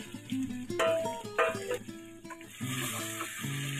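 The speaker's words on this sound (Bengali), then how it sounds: "আমরা একসাথে মাংসর সাথে আলুগুলো কষিয়ে নিচ্ছি" Fried Chandramukhi potatoes and chicken pieces sautéed together in a pan for a Lalbahari chicken curry, giving a steady, close sizzle with stirring scrapes that runs throughout, under a prominent melodic tune.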